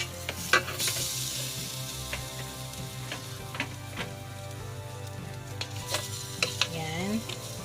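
Marinated pork belly cooks in a preheated air fryer, giving a steady soft sizzle with scattered light clicks and taps of handling, heard close with no talking.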